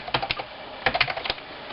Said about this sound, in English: People asked if I could type on it to hear how loud.